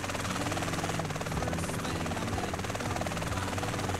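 A helicopter flies in GTA San Andreas with a steady, loud rotor thump and engine buzz that holds throughout, with no pauses, and a faint voice is partly buried beneath it.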